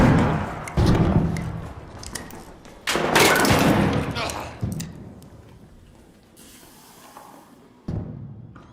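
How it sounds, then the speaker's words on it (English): A grenade tossed during a shooter video game bursts with several heavy thuds and booming impacts amid gunfire, loud and close, while players talk over much of the action. "I'm throwing a grenade in there."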